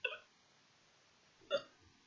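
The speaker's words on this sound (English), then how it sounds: "It's probably a hiccup or something." Two short hiccups from a person, one at the start and another about a second and a half later, each a brief sharp catch of breath, fairly faint with quiet room tone between.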